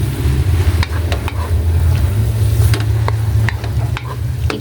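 Spring onion stirred into sautéed cabbage with egg in a pan, a loud, steady sizzle with repeated scraping stir strokes throughout.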